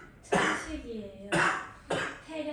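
A teacher with asthma coughs in a classroom: three or four harsh, close coughs in irregular bursts, each with a rasping throaty tail, heard alone without talk.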